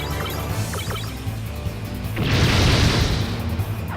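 Heavy 180mm cannon blasts in the video game MS Saga, a dense burst of booming explosions that swells into a loud, rumbling crash midway, with no talk over it.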